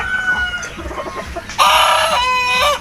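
Farm chickens cluck softly in a short stretch before a rooster bursts into a loud, close crow that fills the final second.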